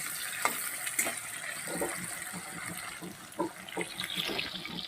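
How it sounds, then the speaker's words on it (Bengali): Potatoes fry in oil left over from frying fish, giving a soft, fairly faint sizzle with scattered light stirring clicks. "ওই মাছ ভাজার তেলে আমি আলুটা একটু লাল লাল করে ভেজে নেব"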